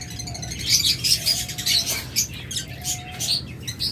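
Pet birds, sold in pairs with eggs, chirp in short, bright, repeated tweets close by, scattered unevenly over a soft background hiss.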